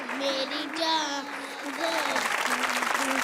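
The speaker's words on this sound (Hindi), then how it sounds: "ताली बजा लो, जलो मत, ताली बजा लो।" Studio audience applause on a comedy talk show, a dense clapping wash heard under a prominent voice talking and singing throughout.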